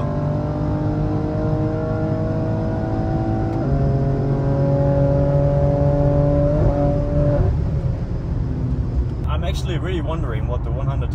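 A 750 hp BMW M3 G80 accelerates hard on the German autobahn, a loud steady engine drone climbing in pitch with several gear shifts that drop the tone, plus wind and road roar throughout.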